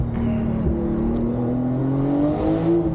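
A Porsche 911 Turbo S (992) accelerating hard out of a corner in third gear, its engine note climbing steadily and loud from inside the car, a continuous rising roar with no talk.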